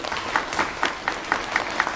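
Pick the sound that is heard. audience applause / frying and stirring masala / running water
audience applause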